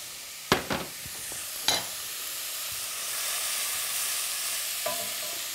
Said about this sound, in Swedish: Och det här ska inte koka, det här ska fräsa.